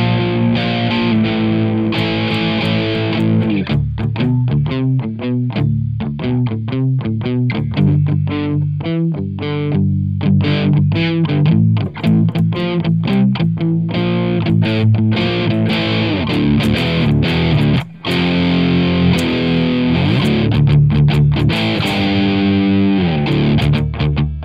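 Heavily distorted electric guitar played through an Overloud TH3 Metal Pack amp simulation, loud and continuous with chugging palm-muted riffs, sustained chords and brief stops.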